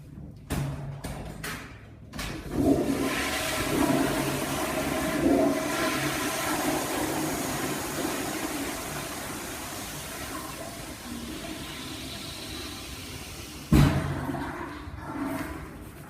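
A toilet flushes in a school bathroom, starting with a few sharp clicks, then a loud rushing gush of water that gradually fades, followed by a final clunk and a brief surge near the end.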